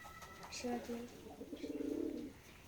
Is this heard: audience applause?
no